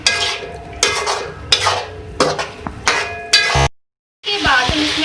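Mutton karahi being stirred in a pan with cumin powder, coriander powder and crushed red chilli: repeated scraping, clanking stirs in bursts, loud and close, with a sizzling frying hiss, then a brief silence before more stirring.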